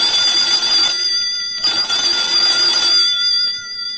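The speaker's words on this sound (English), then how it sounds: "All kinds of objects can tick" Ticking clock effect from a detective radio drama, a steady mechanical ticking with bright metallic overtones that runs loud and alone for several seconds, swelling and easing in bursts.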